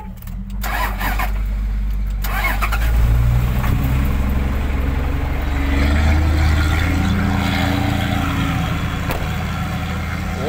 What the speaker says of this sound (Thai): อุ่นเครื่องก่อน